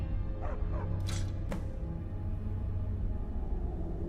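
A dog in Skyrim gives a few short barks and yips close by, set over a steady low rumble of game ambience and music.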